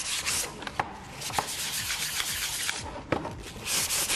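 Sandpaper rubs back and forth over a painted wooden box, close and scratchy strokes in an uneven rhythm with a few sharper scrapes and no talk.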